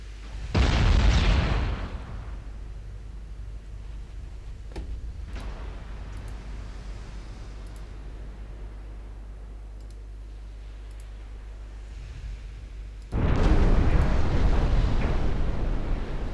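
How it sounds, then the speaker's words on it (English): Battleship guns firing at enemy battleships in a naval strategy game: a heavy booming salvo at the start, a long low rumbling lull with faint clicks, then another loud sustained roar of gunfire near the end. "My battleships are engaging the enemy battleships."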